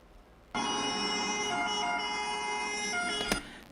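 A fire engine siren suddenly blares in, holding a steady multi-toned wail for a few seconds before a brief clunk near the end.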